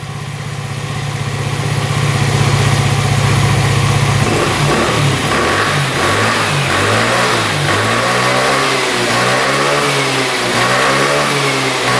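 A formerly bogging scooter engine with its air box refitted revs up loudly and close, climbing from a steady drone into repeated rising and falling revs that run freely without stumbling.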